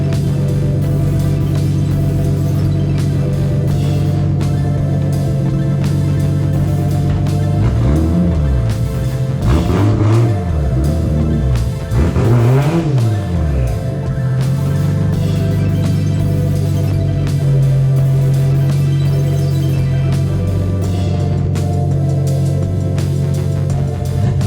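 A 1997 Nissan 240SX S14 kouki fitted with a 2JZ engine drones loudly and steadily, with a few sharp rev sweeps rising and falling mid-clip before settling back to a constant throb. No one speaks.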